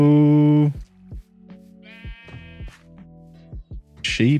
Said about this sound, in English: Sheep up here.